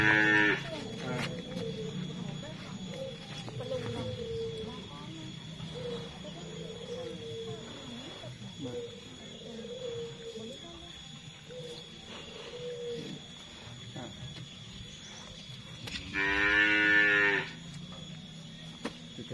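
Cattle on an Indonesian farm give a low, moderately loud moo near the start and another clear one around the middle, with soft grunting and lowing between them against a quiet ambient background.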